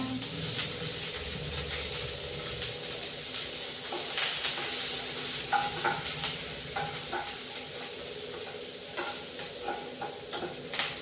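Curry leaves and onions sizzle and crackle steadily in a hot pan, with occasional stirring scrapes and clinks over the continuous frying hiss.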